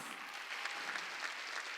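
A church congregation at a Sunday worship service claps together, a brief, even wash of applause heard from the room with no speech on top.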